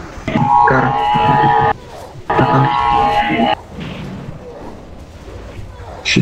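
Explosions in a video game burst out in loud, harsh blasts, two long sustained roars back to back followed by quieter rumbling, with a voice speaking over the action.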